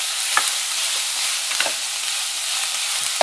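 Bitter melon stir-fries in a hot pan, a loud bright hissing sizzle with a few spatula scrapes at intervals, close and without voices.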